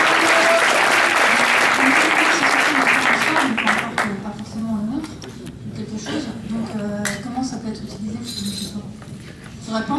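Audience applause after a pitch at a health hackathon, loud dense clapping at first that thins and fades after a few seconds, with voices talking over the tail end.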